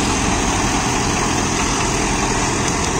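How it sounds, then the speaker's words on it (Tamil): Turbocharged engine of a John Deere 5405 CRDI 63 HP tractor runs steadily and loud, a dense continuous drone with no pauses, working in a banana plantation. "இது டர்போ இன்ஜினுங்க"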